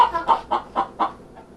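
A nervous hen clucks loudly and close by in five quick, evenly spaced bursts, then falls quiet.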